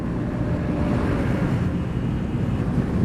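A steady, loud roar of wind buffets the rider of a stock Honda PCX scooter with 17-inch wheels and an aftermarket exhaust, cruising at about 115 km/h. The rush is continuous and close, with no talking.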